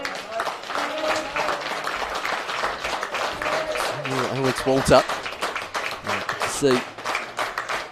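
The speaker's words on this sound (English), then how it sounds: "And get the round of applause." Crowd applause ripples around a semi-professional football ground during a substitution in a Tasmanian league match between Glenorchy Knights and Kingborough, steady clapping running under a commentator's continuous voice.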